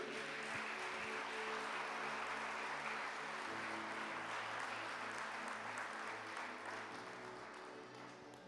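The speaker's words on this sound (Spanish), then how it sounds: "Denle un aplauso a mi Jesús" A church congregation applauds in a steady wash of clapping, fairly faint and distant, over a sustained low tonal hum that sounds like music, fading slightly at the end.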